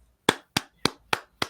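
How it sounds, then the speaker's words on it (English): Five sharp, isolated claps land in an even rhythm, each a crisp, close smack with a brief decay and near silence between them, and no voices. "clapping."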